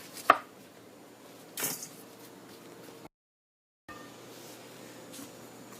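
Knife cutting through a bell pepper on a cutting board while making a salad: two distinct chopping thuds, one sharp early and a second a bit later, over faint room noise, with a brief silent gap.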